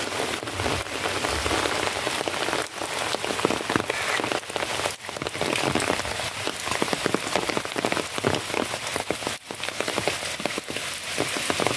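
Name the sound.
heavy rain falling in a village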